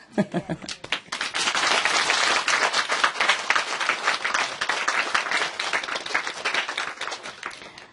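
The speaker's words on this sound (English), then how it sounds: "We applaud them, huh?" An audience breaks into sustained applause, many hands clapping densely and loudly for several seconds after a brief opening burst.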